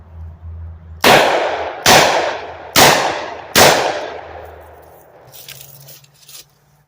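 Steel shot fired from a Chief Rolling Thunder Combat Magnum slingshot strikes a metal target, making four loud, ringing clangs in an even rhythm, each decaying slowly, followed by a few fainter taps.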